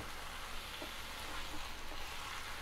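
Methi leaves and onions fry in a pan after cooking under a lid, giving a steady, soft sizzle with faint stirring scrapes. The sound is close but low in level, with no voices.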